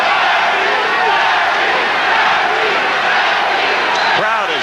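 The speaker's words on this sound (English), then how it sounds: "Crowd is chanting" A capacity boxing crowd at the Larry Holmes versus Ken Norton fight roars and chants in a dense, continuous wash of voices, loud and steady throughout.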